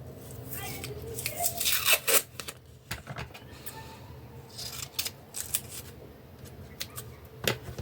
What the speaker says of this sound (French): ici et ici je vais mettre un peu de scotch marron